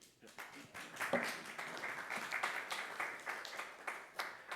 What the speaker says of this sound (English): Round of applause for Ivan.